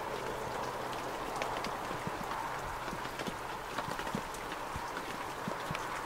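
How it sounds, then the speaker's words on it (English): Steady rain falling outdoors on a street in New Zealand, a dense, even hiss with scattered close drips and taps on hard surfaces, no talking. "standing here and listening to the rain"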